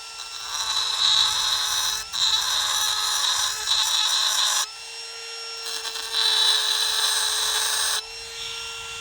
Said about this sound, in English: So we do have a Dremel.